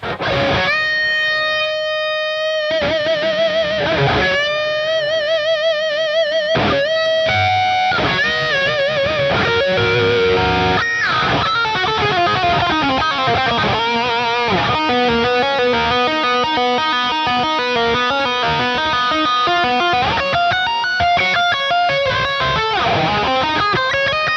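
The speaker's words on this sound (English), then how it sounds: "use this thing as a lead Ampsim or lead guitar tone, throw on a delay and a reverb" A distorted electric guitar through a Nembrini Audio Hardball amp simulator with delay and reverb plays a loud, sustained lead line with ringing notes and bends, its tone gritty and amp-like throughout.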